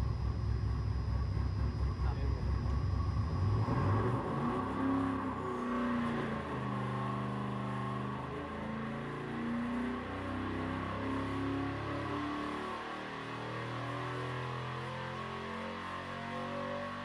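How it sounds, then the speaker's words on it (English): A modified GM 5.3-liter L83 V8 revs on a dyno, first as a loud, rising roar, then as a deep, steady drone with wavering engine harmonics. "let's take a listen. Let's hear one of these motors up on the dyno."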